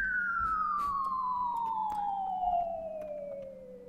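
A steady siren-like tone demonstrating the Doppler effect in a Second Life exhibit glides smoothly downward in pitch, loud and continuous, with faint clicks and background murmur around it.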